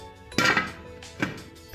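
A cooking pot lid is set down on a pot in an outdoor backyard kitchen, giving one clear metallic clink followed by a second, lighter clatter, close and alone without talk.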